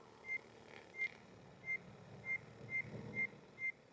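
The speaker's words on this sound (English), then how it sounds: "I'm getting more and more beeps" Seven evenly spaced electronic beeps, short and high-pitched, repeating at a steady pace over a low engine-like rumble, with no talking.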